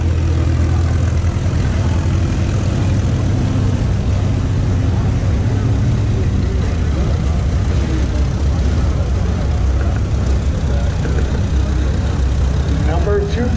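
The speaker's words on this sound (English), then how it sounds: "This is the 1941 Case Model SC, owned and operated by Ken Christopherson." A 1941 Case Model SC tractor runs at a threshing show, its engine a steady, loud low rumble that continues throughout while a voice announces over it.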